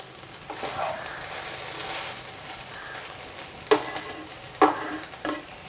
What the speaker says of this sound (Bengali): এবার ঘি দিয়ে একটু মিশিয়ে দেব।